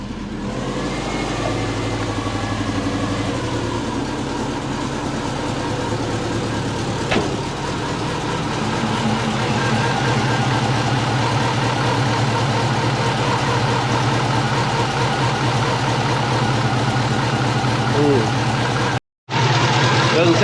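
A Subaru car engine idles close by after an exhaust repair, with a steady low rumble and no exhaust leak, a person talking briefly over it and a short cut near the end.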